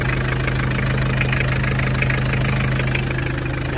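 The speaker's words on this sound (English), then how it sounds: "on my 1982 Isuzu Pup diesel. There's the engine there." A naturally aspirated 2.2 liter diesel in a 1982 Isuzu Pup idles steadily, a loud, even rumbling clatter with a constant low hum and no talking.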